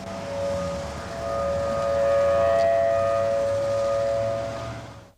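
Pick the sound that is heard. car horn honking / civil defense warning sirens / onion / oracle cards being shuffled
civil defense warning sirens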